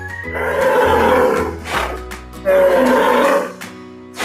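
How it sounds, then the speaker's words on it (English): A bull on a farm bellows in two long, loud, deep calls with a short pause between them, each swelling and then fading away, heard close up with no other sounds around. "bull,"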